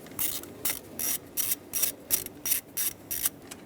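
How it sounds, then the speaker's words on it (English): Repeated ratchet clicking from a hand ratchet backing out the two 10mm bolts on a 2011-2018 Ram 2500 6.4L V8 ignition coil, about ten even, close, moderately loud bursts in a steady rhythm with no talking. "two 10mm bolts is what hold on this ignition coil. Remove them both."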